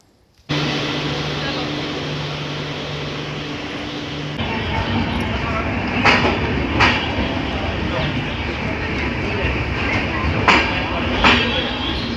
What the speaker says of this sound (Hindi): चीकू को ट्रेन देखना बहुत ज़्यादा पसंद है, हद से ज़्यादा पसंद है इसे ट्रेन देखते रहना बस